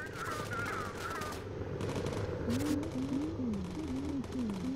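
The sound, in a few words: gunfire from bomber turret guns in Bomber Crew video game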